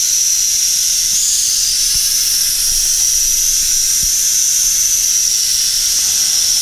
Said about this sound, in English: I'm giving it full throttle now and it's just barely hovering.